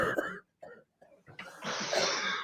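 A person coughs and clears their throat in a few short bursts, followed by a louder burst of noisy hiss.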